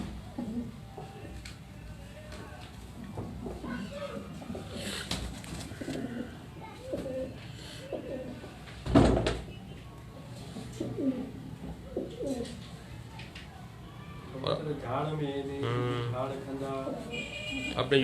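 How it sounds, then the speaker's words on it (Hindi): Silver pigeons of a single breed cooing in a loft, soft repeated coos mixed with bird calls and background clatter, moderately close, with people talking over much of it. "इनके सिल्वर कबूतर दिखाएंगे।"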